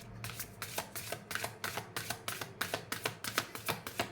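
Tarot cards being shuffled by hand up close, a quick run of rhythmic riffling bursts repeating about three times a second, crisp and clear with no talking.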